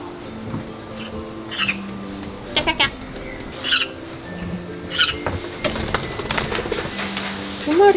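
Short bursts of high chirping and chittering come and go over a steady outdoor hum, with faint voices in the background.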